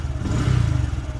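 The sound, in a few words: Honda Grom MSX 125 motorcycle engine revving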